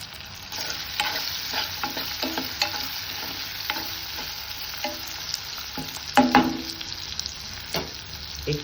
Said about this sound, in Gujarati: 15-17 લસણની કળી લીધી છે. હવે એને ડુંગળીમાં ફ્રાય કરી દઈએ.